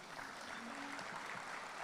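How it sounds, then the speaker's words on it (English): Applause from an audience at a fire department awards ceremony, as a fire chief is introduced, with steady dense clapping that fills the room at a moderate, even level for a couple of seconds. "Let's give him a round of applause."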